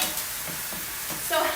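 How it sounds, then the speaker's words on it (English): Onions sizzle in a hot grill pan as they are stirred, a bright crackling hiss with brief scraping accents, close and fairly loud. "if it sizzles, just like my grill pan did, just like my onions over here, if it sizzles, it's hot enough."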